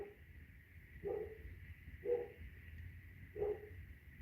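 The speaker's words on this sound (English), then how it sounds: "Got like dogs barking in the background." Dogs bark in the background, three distinct single barks spaced about a second apart, distant and faint over a quiet room hum.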